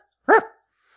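A man imitates a dog with a single short, loud bark, a gruff voiced 'woof' lasting under half a second that rises sharply and trails off into silence.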